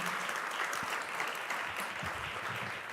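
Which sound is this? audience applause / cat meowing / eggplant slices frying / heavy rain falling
audience applause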